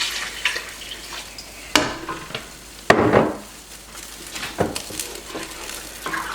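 Spoon stirring milk into pumpkin pie filling in a pot on the stove, with soft scraping, occasional sharp clinks against the pot and a faint sizzle underneath, close and fairly quiet, with no talk.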